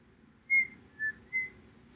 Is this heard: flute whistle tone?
yes